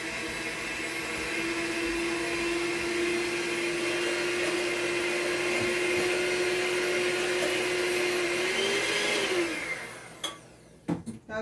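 An electric mixer beats room-temperature butter until fluffy for homemade vanilla wafer cookie dough, a steady high whirring drone that runs unbroken, then winds down near the end, followed by a few clunks as it stops.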